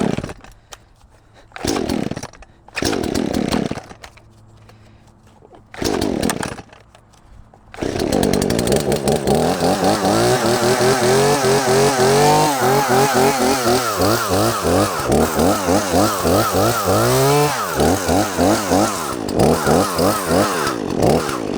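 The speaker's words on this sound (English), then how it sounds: "Haven't ran this chainsaw in a while" A chainsaw is yanked several times before it starts, then roars loudly nearby and revs up and down repeatedly as it cuts.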